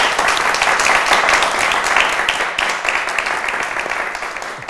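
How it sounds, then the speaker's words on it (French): Studio audience on a youth discussion programme gives a strong burst of applause, dense continuous clapping that stays loud and gradually eases toward the end. "On va s'applaudir très fort."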